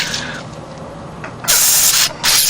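Carburetor cleaner sprays through the ports of a Suzuki TS185 carburetor in two loud, close hissing bursts, with a short gap between them, after a quieter stretch of background hiss.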